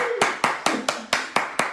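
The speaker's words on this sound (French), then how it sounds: "On l'applaudit, on l'applaudit, on l'applaudit" Rhythmic clapping at a French-speaking gathering, seven sharp, evenly spaced claps roughly a quarter second apart, fairly close and alone with no talk over it.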